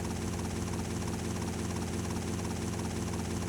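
A helicopter flies in GTA Vice City Stories, a steady, dense rotor and engine drone with a low throbbing pulse that holds constant and loud throughout.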